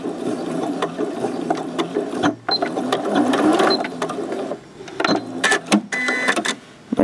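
A sewing machine runs in reverse to backstitch a dry hot-water bottle, giving loud, close, rattling mechanical bursts with short pauses between runs and no talking over them.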